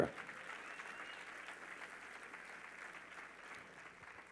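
A church congregation applauds together during a Spanish-language sermon, a steady wash of clapping at moderate, somewhat distant level that holds throughout without talk.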